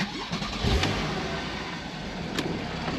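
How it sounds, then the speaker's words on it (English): Porsche 911 Targa 991 in special-order Carrara White pearlescent, very low mileage, cranking and firing up with a brief starter whir, then settling into a steady mid-pitched idle, close and fairly loud. "I'm going to start the car up now"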